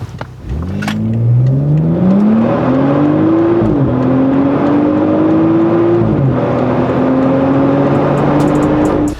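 A BMW X5 F15 SUV engine revs hard in sport mode during a 0-100 acceleration run, climbing in pitch through successive gear shifts, loud and close, with no talking.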